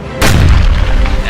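A Civil War cannon fires a single loud, close boom that rolls into a long rumbling echo, with faint voices in the background.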